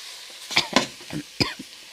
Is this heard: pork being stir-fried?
yes